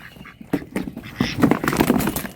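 Crested ducks quacking in short, raspy bursts, several calls clustered near and fairly loud over a busy background with other birds and rustling.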